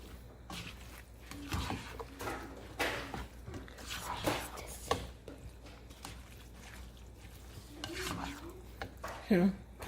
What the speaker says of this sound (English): cooking my vegetable rice, cauliflower